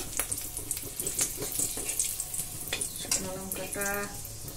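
Dried red chillies dropped into a small amount of hot oil in a pan, a busy crackling sizzle close up with some clatter and an intermittent tonal whine, no talk.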